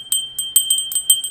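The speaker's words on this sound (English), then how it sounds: "Just use my bell," A small bell rung to clear energy, a series of about seven bright metallic chimes struck in quick succession, clear and close with ringing overtones and no talk.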